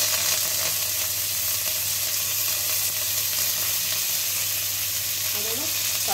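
Curry leaves and green chillies sizzle in hot oil for Tamil lemon rice, a loud, steady frying hiss with faint crackles near the end, no talking.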